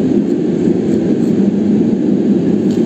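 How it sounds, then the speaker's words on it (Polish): A coal train passing, a loud, steady low rumble with a continuous rolling roar and no distinct breaks. "A tu słychać pociąg z węglem."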